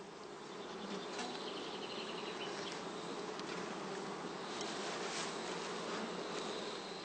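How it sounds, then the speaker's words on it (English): Honey bees buzzing around heather skep hives while feeding their brood, a steady, dense, continuous hum of many insects close by, with no voices. "The bees are busy feeding their brood."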